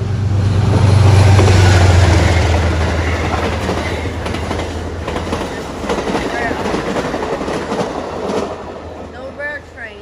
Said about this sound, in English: Here comes the Amtrak.